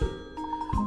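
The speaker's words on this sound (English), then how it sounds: "Oh, that's the phone. I'll get it." Telephone ringing in short repeated electronic pulses, a steady trilling ring sounding several times in quick succession with a low thump underneath.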